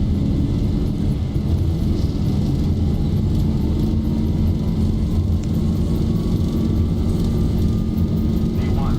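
Boeing 737-800 in the X-Plane 12 flight simulator rolling down the runway for takeoff, a steady loud engine roar and rumble that holds constant throughout, with a faint rising whine beneath.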